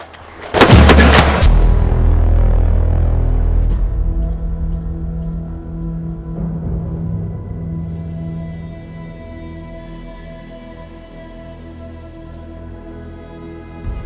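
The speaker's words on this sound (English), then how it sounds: "we're out here at the 200 yard range today, and we're shooting the Marlin 3030." A Marlin 30-30 rifle fires at a 200 yard range: one loud, sharp gunshot near the start, followed by a long rolling echo that fades over the rest of the clip.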